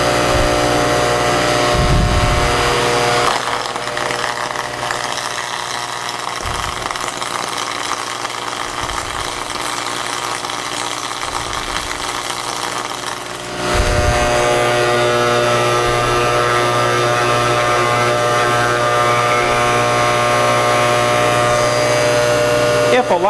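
An Electro Arc Model 2-SAC machine is downfed manually, producing a loud steady electrical hum and machine drone with a few low thumps, then a shift in tone partway through as it continues running.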